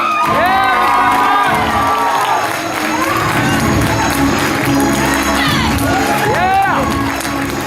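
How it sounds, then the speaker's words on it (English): An audience at a black belt martial arts demonstration cheers, whoops and shouts, a loud, continuous crowd roar with children's voices and bursts of high-pitched yells, plus some clapping. "From the Deer Clan, a round of applause for Gloria Tucker."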